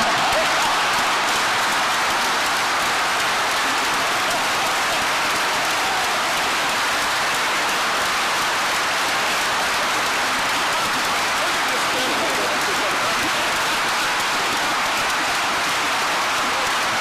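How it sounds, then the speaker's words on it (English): Audience applause at a State of the State speech, a loud, dense, continuous clapping from a large crowd that fills the whole stretch without breaking. "You can give me an applause from that."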